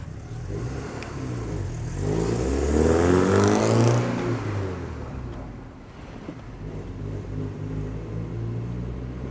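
A Porsche 944 barn find runs while the car drives off. The engine swells into a loud rev and then settles into a rougher, steady run.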